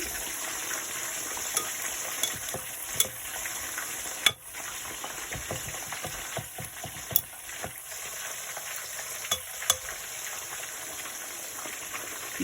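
Horse mackerel frying in a pan, a continuous close sizzle and crackle with occasional pops and stirring clatter, no voices.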